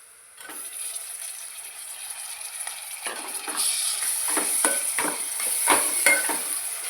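Finely chopped tomato frying with browned onions in a pan, a steady close sizzle with repeated scraping strokes of a spoon growing busier and louder as the stirring continues.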